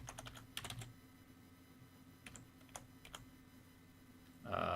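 Short bursts of clicky typing on a computer keyboard come in scattered clusters over a quiet room background, with a brief louder noise at the very end.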